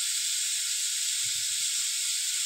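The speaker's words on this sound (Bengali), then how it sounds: "এবার ভেজে রাখা চিংড়ি মাছগুলো ডুমুরের মধ্যে দিয়ে দেবো।" Fried prawns go into a cooking fig curry, producing a steady bright hiss of sizzling with a few soft low bumps in the middle, no talking.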